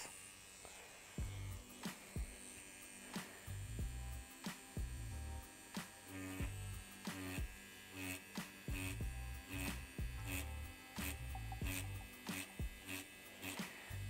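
A Bronc Magic tattoo machine running at 6.8 volts with a 15 curved mag buzzes steadily, broken by short rhythmic pulses and clicks as it works; faint and alone, with no talking.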